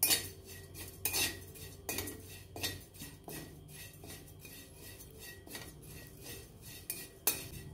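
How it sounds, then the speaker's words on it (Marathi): Poha being stirred while it roasts in a kadhai: a spoon scrapes and clinks against the metal pan in repeated uneven strokes, close but fairly quiet, with no talking. "हे आपण हे पोहे सगळं हलवून घ्यायचे"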